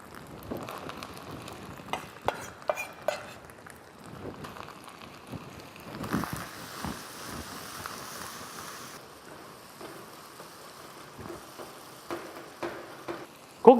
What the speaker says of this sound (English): Cook these tomatoes until they are soft and pulpy.